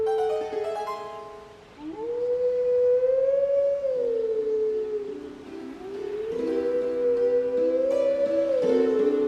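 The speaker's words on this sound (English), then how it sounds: "Let's get ready to go right here and howl Zelda's lullaby again" Wolf Link howls Zelda's lullaby in the Twilight Princess HD video game, two long sustained gliding howl phrases rising and falling over soft accompanying music, loud and alone.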